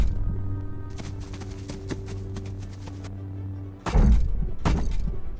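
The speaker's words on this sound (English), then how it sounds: "just the thud sounds of his feet" A heavy armored knight's footsteps land as deep thuds with a crunching, shattering impact in a medieval fan film, following a low droning hum, loud and close.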